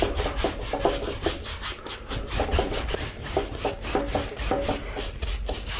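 A paintbrush spreads red paint across a canvas in repeated crisscross strokes. The bristles make a close, continuous scratchy rubbing with no voices.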